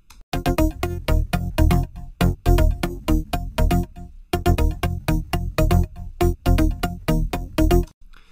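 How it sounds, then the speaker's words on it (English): A bass track built from Apple Loops samples plays back loud and close, with a steady run of punchy notes in a driving rhythm and a short gap midway. No one talks over it. "The bass sounds like this."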